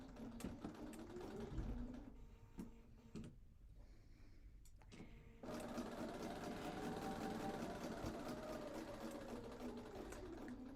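A sewing machine stitches a pieced sunflower quilt block, running in a steady fast drone with a brief pause before it resumes and carries on evenly to the end, fairly close and alone.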